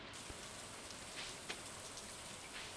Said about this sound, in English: Oh, it's rainy again.